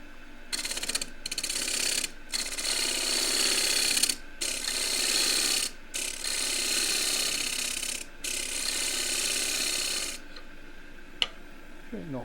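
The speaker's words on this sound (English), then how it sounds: "I'm going to take the foot away with the left wing of the 1/2 inch bolt gouge, just a shear straight" A half-inch bowl gouge makes a shear cut to remove the foot of a wide-rimmed wooden bowl spinning on a lathe, giving a loud, steady, close hiss of cutting broken by several short pauses, with no talking.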